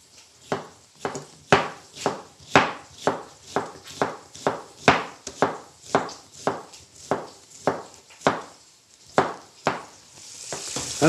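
A kitchen knife slices an onion finely on a cutting board in a steady, even rhythm of about twenty crisp chops, each a sharp close thud with no talking, ending in a brief rustle.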